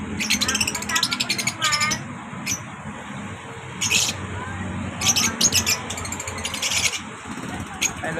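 A parrot in a pet shop gives bursts of sharp chirps and squawks in several separate clusters, heard close and loud over a background of people talking.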